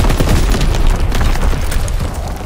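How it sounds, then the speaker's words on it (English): Artillery battery firing in Call of Duty: WWII, a dense, continuous rumble of booming blasts that fills the whole stretch loudly without a break. "Firing primary battery."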